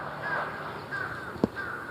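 A magpie calls outdoors in spring, giving a few faint, harsh chattering notes at a moderate distance, with one sharp nearby click partway through.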